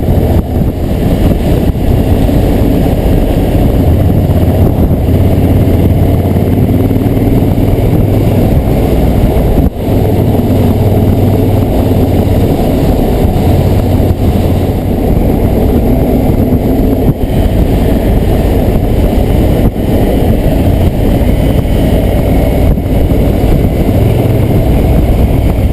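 A Triumph Thunderbird Commander motorcycle engine drones steadily and loudly throughout, a continuous low rumble with slight rises and dips as it rides along.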